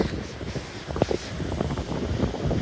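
Strong gusty wind buffeting the microphone on the exposed top of Kondarangi Hill, a dense continuous roar with low rumbling bursts, close and loud throughout with no speech.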